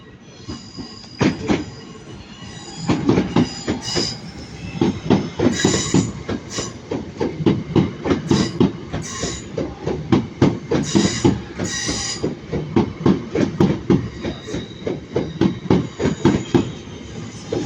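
A Northern train at a platform in Manchester Piccadilly station, loud rhythmic clickety-clack of wheels over rail joints with squealing wheels as the carriages pass close by, with no talk.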